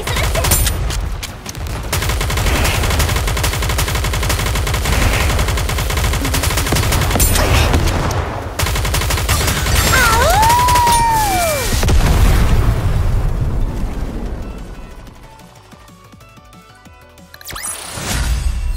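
Continuous rapid gunfire and booming explosions from the Nikke shooter game, dense and loud for most of the stretch, with a brief rising electronic tone, then dropping to quieter effects before another burst.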